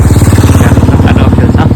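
A motorcycle engine runs close and loud with a steady rapid pulsing throb while riding on the road between Butwal and Kathmandu, with a faint clatter over it.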